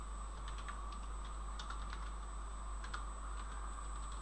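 Typing on a computer keyboard while entering text into a spreadsheet: a steady run of light, close key clicks in uneven rhythm over a constant low hum, with no talking.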